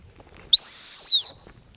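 A single sharp, high blast from a dog training whistle used while working a gun dog, lasting under a second, loud and close against a quiet outdoor background.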